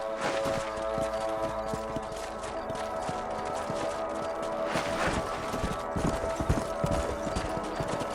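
Horse hooves clip-clop steadily as a rider travels in the Red Dead Redemption video game, a continuous rhythmic trot over a dense bed of game music and ambience, with heavier hoof hits toward the end.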